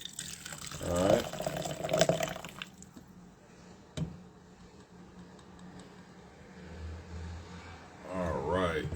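Tap water runs and splashes over a ripe tobacco leaf as it is rinsed, with close gurgling bursts at the start and end and quieter wet handling between.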